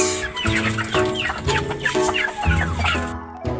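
Several chickens, a rooster and hens, cluck in a busy, overlapping chorus, close by and fairly loud, with irregular clucks and squawks throughout.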